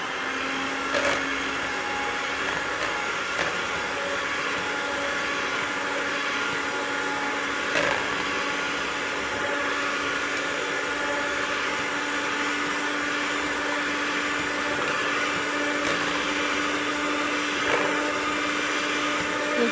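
An electric mixer runs steadily as it whips cream with icing sugar, giving a continuous motor whir with faint clicks and bumps from the beaters, close and loud, with no talking.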